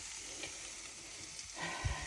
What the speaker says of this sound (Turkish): Şimdi bu soğanı bu suyun içine atacağım ve güzelce kavuracağım yağla.